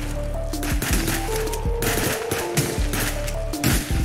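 Gunfire rattles out in the video game Contraband Police as a series of sharp, loud shots fired in rapid succession over steady engine and ambient noise, with no voices present.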